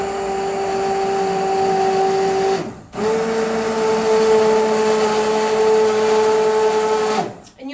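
A blender whirs steadily and loudly as it purées spiced carrot soup in a tilted pan, cutting out briefly near three seconds before resuming its even drone.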